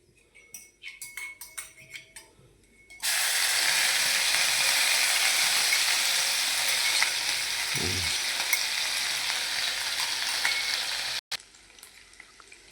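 Ginger, chili and garlic paste hits hot oil with a sudden loud sizzle that holds steady for about eight seconds, then cuts off, with faint clinks before and after for a green bean curry.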